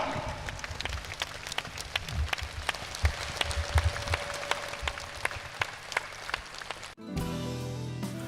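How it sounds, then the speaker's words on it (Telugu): An audience at a meditation gathering breaks into loud, continuous applause, with many hands clapping densely and steadily for several seconds before it stops abruptly. "ఒకసారి గట్టిగా చప్పట్లు కొడదాం"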